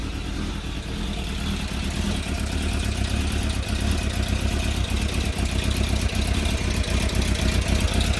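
A motorcycle engine idles with a misfire, its choke off and an idle mixture screw out of adjustment, a steady close rumble with an uneven, stumbling pulse running throughout.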